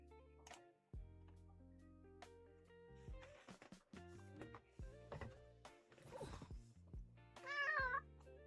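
A cat meows several times indoors, loud close calls with a drawn-out caterwaul near the end, mixed with a few knocks and clicks and no talk.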